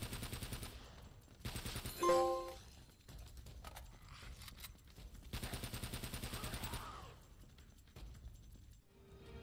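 Gunfire in an Uncharted video game, shooting from the hip: rapid bursts of automatic fire in dense stretches, mixed with game music, a mechanical reload click and a background hum.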